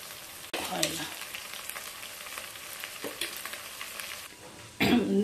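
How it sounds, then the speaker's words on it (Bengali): Spices for mutton kasha fry in a pan, a soft steady sizzle broken by stirring scrapes and clatter, with a louder burst of spatter near the end and no talk. "দেখো মোটামুটি মশলাগুলো এখন ভাজা হয়ে গেছে"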